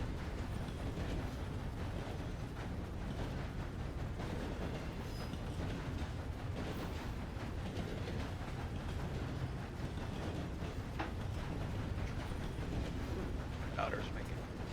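Train rolling on rails in the Sundown RP video game, a steady low rumble with faint rhythmic rail clatter running throughout at moderate volume, with occasional voice in the mix.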